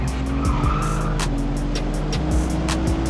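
BMW G87 M2 on a race track, held in oversteer out of corner exits with loud, continuous engine roar and repeated tire squeals and skid chirps throughout, no talk.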